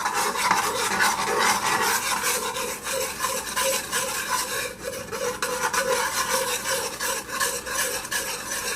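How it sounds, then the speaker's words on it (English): Sugar being stirred in a pot as it browns and caramelizes for stew chicken: a continuous, close scraping and rasping of a spoon against the pan, steady and uninterrupted with no talk. "you're gonna just start stirring as it gets brown and caramel"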